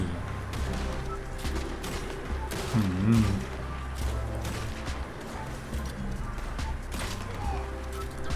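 In Red Dead Redemption 2 Online, gunshots ring out during a hunt for wolves and mountain deer: scattered sharp shots over game ambience while someone talks throughout.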